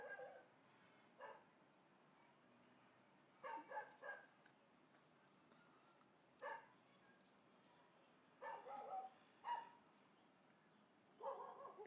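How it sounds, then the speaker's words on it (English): A neighbour's dog barks in short bursts and small clusters, several separate barks spread through the stretch. It sounds somewhat distant and muffled over a quiet background. "Sorry, that's the neighbor's dog."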